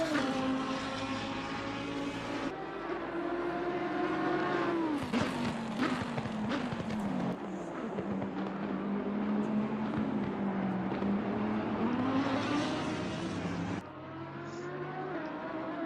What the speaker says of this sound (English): See a few cars coming through Variante, the first chicane of the Monza circuit